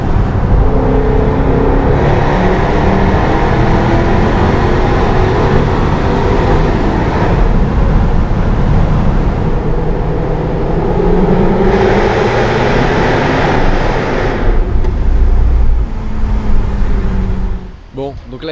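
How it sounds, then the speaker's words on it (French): A Jaguar F-Type Project 7 with a 575-horsepower engine roars loudly up close, its engine and exhaust droning and surging in long waves before cutting off near the end, with voices talking over it. "Ce moteur il gueule vraiment, enfin le moteur et l'échappement"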